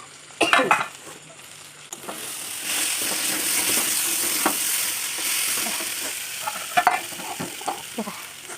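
Goat meat frying and being stirred in a pan makes a steady, close sizzle, with scraping and clinking of a utensil against the pan at the start and again near the end.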